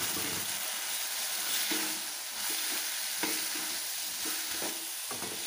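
Grated coconut fries with softened tomatoes in a pan for a fenugreek curry, giving a steady, loud sizzle. Stirring adds periodic scraping strokes throughout.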